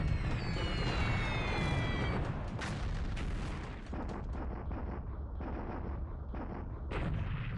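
In the War in the Pacific video game, 100 kilogram bombs strike ships amid dense anti-aircraft fire: continuous loud booms and rapid gunfire crackle with no talk.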